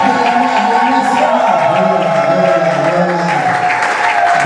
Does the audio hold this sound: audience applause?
yes